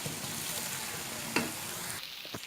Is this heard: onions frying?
yes